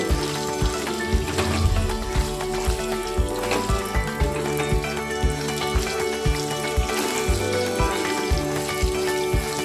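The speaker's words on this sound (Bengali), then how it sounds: "যতক্ষণে পটলটা ভাজা হচ্ছে" Loud, steady sizzling of pointed gourd pieces frying in hot oil with salt and turmeric, with repeated soft thumps and scraping as the pieces are moved around.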